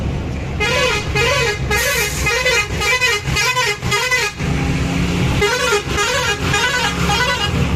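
Road traffic near Lonavala with buses and cars honking, several loud pulsing horn blasts repeating in bursts over the constant close rumble of engines, with no talking.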